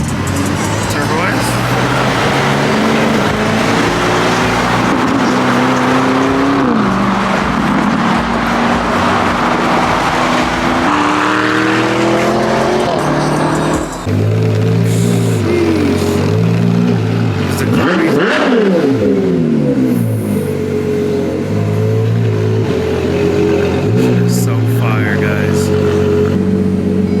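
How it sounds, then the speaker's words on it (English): Turbo S and Lamborghini sports cars race, their engines revving with rising and falling pitch sweeps, loud and close, under almost constant excited talk. "the Turbo S, insanely fast. See if the Lambo can keep up"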